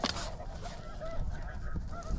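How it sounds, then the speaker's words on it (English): A flock of snow geese honks overhead in flight during a goose hunt, a steady chorus of overlapping calls with distant wind noise and no talking. "Bunch of birds up over there."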